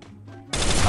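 A single sharp, loud gunshot bursts from a shooting video game after a brief quiet stretch, close and full-bodied.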